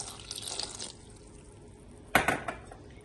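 Water is poured into a pot holding squash and chile on a home stove, a brief splashy pour followed by a sharp clatter of metal cookware, close and moderately loud.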